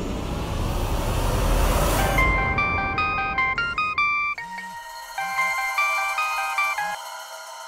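A phone ringtone plays a bright repeating electronic melody in short phrases, clear and close, following a noisy rushing stretch at the start.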